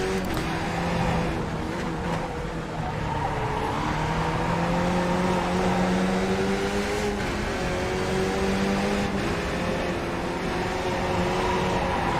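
Race cars from the iRacing sim racing game run at Oran Park, their engines droning and whining continuously and loudly, with shifting pitch as they accelerate and bunch up through corners, without speech.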